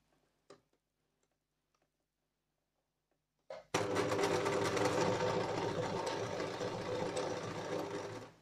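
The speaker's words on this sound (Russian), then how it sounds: "зашиваем почти до самого конца" After a few faint clicks and a short start, a sewing machine runs steadily along the seam of a fabric hair scrunchie, giving a close, continuous rapid ticking whir until it stops near the end.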